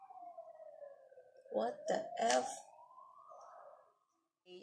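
An ambulance siren outside wails in a steady rising and falling tone at moderate distance, with a short burst of speech partway through.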